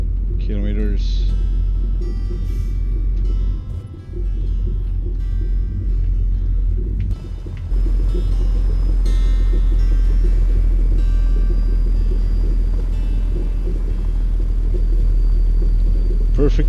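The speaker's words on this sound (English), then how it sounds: "Perfect place to be to listen to this exhaust sound." In American Truck Simulator, a truck with an Aussie tuned DD60 engine rumbles with a deep, steady exhaust drone that dips briefly before settling into a constant low roar. Someone talks over the engine.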